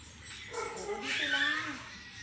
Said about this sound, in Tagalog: may isa pa akong aso